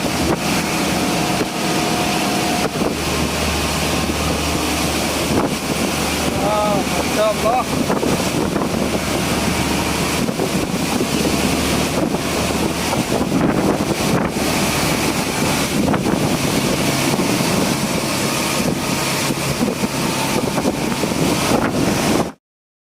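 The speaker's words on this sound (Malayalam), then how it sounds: "ബോട്ട് ഓടിക്കൊണ്ടിരിക്കുന്നത്" A boat engine drones steadily over water, with heavy wind buffeting the microphone and splashing waves throughout.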